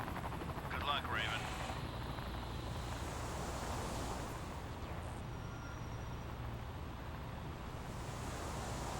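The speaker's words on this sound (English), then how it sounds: "Get some helicopters" A helicopter hums in Armored Core 3 as a steady, fairly faint rotor and engine drone under a broad wash of noise, with someone talking over it.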